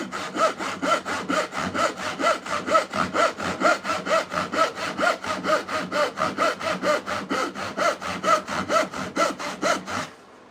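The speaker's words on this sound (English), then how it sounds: "No pressure on the saw, I'm just letting it do the cutting." A handsaw rasps steadily through wood in a fast, even back-and-forth rhythm, close and clear, then stops abruptly.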